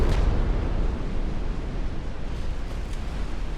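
A torpedo explosion strikes a warship in Ultimate Admiral: Dreadnoughts, set in 1890, heard as a sharp burst at the start that gives way to a loud, sustained rumbling roar, with no speech.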